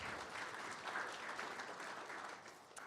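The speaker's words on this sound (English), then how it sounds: "Please, let's give them a round of applause for their service." Faint, distant applause fills a county school board meeting room, honouring school staff for their service. The clapping is even and continuous for a few seconds, then tapers slightly.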